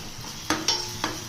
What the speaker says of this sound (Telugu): పచ్చివాసన పోయే వరకు వేపాలి అల్లం